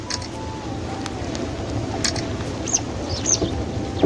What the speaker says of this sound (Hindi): छोटे छोटे पंछी, कई पंछी यहाँ पर हैं।